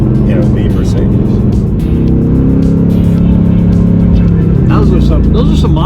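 Mercedes-AMG GT R engine roars loud and steady from close by with a dense low rumble, and crackling exhaust pops come near the end.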